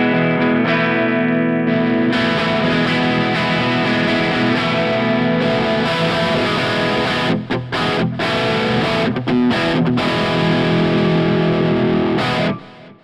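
A sustained, heavily distorted electric guitar chord rings out through a Fractal FM3 amp modeler with chorus-like shimmer, with a few brief cuts and pauses before it fades.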